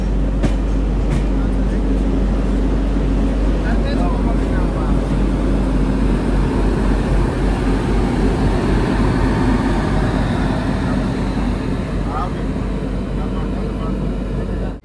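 An express train from Lokmanya Tilak to Banaras passes and overtakes at Madan Mahal station, a steady loud rumble of wheels and rushing air lasting throughout, heard close by.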